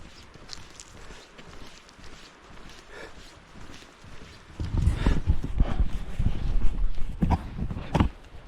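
Horse hooves clip-clop on a road, faint at first and then louder and nearer as the steady walking rhythm approaches, with occasional snorts.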